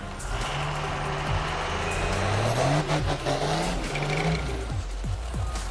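Diesel-swapped Torino wagon drag car doing a burnout, a loud, close, sustained engine drone with rising and falling revs and squealing tire noise at a drag strip.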